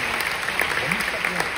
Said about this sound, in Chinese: 来一个热烈的掌声